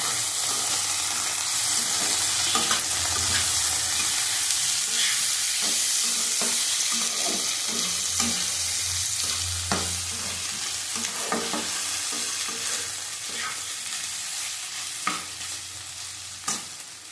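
Half a spoon of garlic paste frying in a pan and being stirred well, a continuous sizzle broken by repeated scraping strokes of the spoon throughout.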